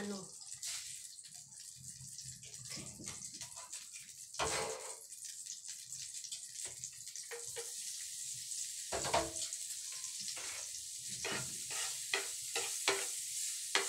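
Garlic fried rice stir-fried in a pan, giving a quiet, continuous sizzle with repeated scraping and tossing strokes from a spatula, heard close up with no talking.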